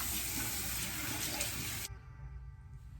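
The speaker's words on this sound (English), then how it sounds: "I'm just gonna wash my face and see how good it washes it off." Tap water runs steadily and loudly into a bathroom sink during face washing, then cuts off abruptly, leaving quiet room tone.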